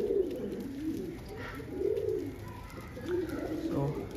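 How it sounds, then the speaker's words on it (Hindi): A wild pigeon fights tame pigeons on a rooftop, cooing and fluttering in a scuffle, repeated low throaty calls rising and falling close by, with faint background chatter. "जंगली कबूतर पालतुओं को मार रहा है इस टाइम"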